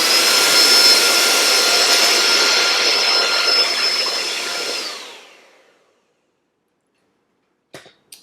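Electric mixer whirring loudly and steadily in a bowl of homemade yogurt for about five seconds, then winding down to silence, followed by a couple of faint knocks near the end.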